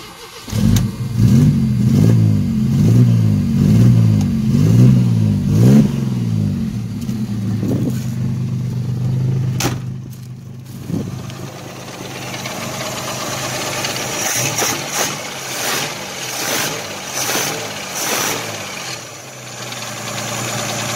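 A carbureted engine in a 1983 Ford Mustang convertible cranks and fires, runs with a loud, rough, pulsing idle for several seconds, then settles to a quieter idle with shifting mechanical noise.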